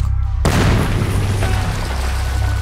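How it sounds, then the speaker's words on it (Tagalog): A huge firecracker goes off with one sudden, very loud blast, followed by a long rumbling roar that fills the air among shouting neighbours. "Iyon na ata ang pinakamalaki at pinakamalakas na paputok na narinig ko"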